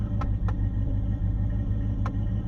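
Engine of a 1984 GMC Jimmy K5 idles with a steady low rumble, close and even, with a few faint clicks on top.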